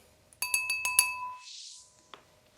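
A spoon clinks against a glass of yellow-tinted tap water, giving four or five bright, ringing taps in a quick run. A soft swish of stirring follows, then one last light clink.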